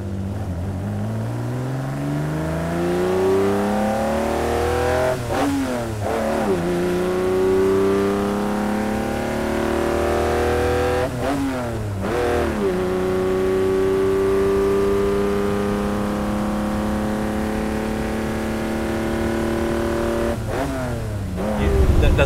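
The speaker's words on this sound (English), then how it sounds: "It's the sound of where the engine is at that certain revolution per minute," Ferrari Lusso competition car engine revving loudly and up close, climbing through each gear in long rising pulls with short breaks at the shifts, repeated several times.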